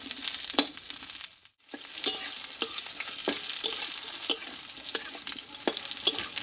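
Pointed gourd sautéing with spices in a pan gives a soft continuous sizzle, punctuated by regular scraping knocks of a stirring spoon roughly every half second, close and fairly quiet.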